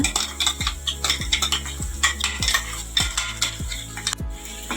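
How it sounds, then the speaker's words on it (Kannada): A spoon stirs ground masala in a frying pan for egg gravy, giving a steady run of metallic scrapes and clinks with a regular rhythm, loud and close, with no talking. "ಮಸಾಲೆ ಎಲ್ಲ ಹಾಕ್ಕೊಂಡು ಇದನ್ನು ಕೂಡ ಒಂದು 2 ನಿಮಿಷ ಕೈ ಆಡಿಸ್ಕೊಂಡ್ರೆ ಸಾಕು."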